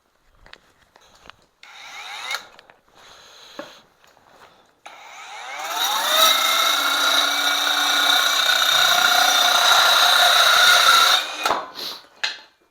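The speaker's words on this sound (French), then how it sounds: "on va passer à la petite scie." An Erbauer 12V cordless small saw starts with a few short bursts and handling knocks, then cuts continuously for about five seconds with a loud, rasping, buzzing whine before stopping.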